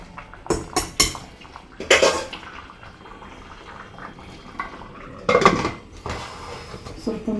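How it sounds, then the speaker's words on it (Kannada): Metal lid of a pressure cooker being shut in a home kitchen while making soya chunks pulao: several sharp, close clanks and clatters in short bursts separated by quiet gaps. "ಕುಕ್ಕರ್ ಮುಚ್ಚಿಬಿಡೋಣ"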